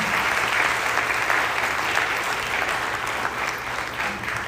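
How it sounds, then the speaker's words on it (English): Audience applause after a Bharatanatyam arangetram dance performance, a dense continuous wash of clapping from a large crowd, steady and loud with no break. "Let's give her another round of applause."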